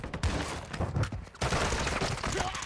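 Gunfire in an online shooter video game comes as a rapid, ragged burst of overlapping shots, a dense crackle that drops out briefly before continuing at a similar pace.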